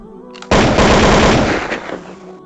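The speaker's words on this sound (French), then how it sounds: "l'un des agresseurs, âgé de 15 ans, lui aurait tiré dessus 3 fois de suite avec une Beretta de 9 mm." Gunfire sound effect of a 9 mm Beretta pistol: a sudden loud burst of rapid shots fired in quick succession, close and sharp, followed by a short decaying echo.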